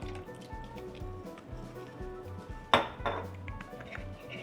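Tuna marinade with soy sauce being mixed in a bowl, giving steady clinks and scrapes of utensil against dish and a sharper clatter near the middle, with no talking.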